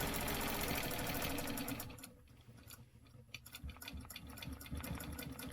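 A sewing machine stitches random vertical quilting lines, its needle whirring loudly and steadily, then dropping to a softer, uneven chatter with slight pauses before running steadily again.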